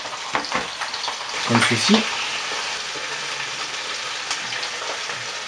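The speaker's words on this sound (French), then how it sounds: "Pendant que l'on fait revenir les cuisses de poulet" Chicken thighs sizzle steadily in a hot pan as they brown, with a brief clatter of stirring and a few spoken words over the frying.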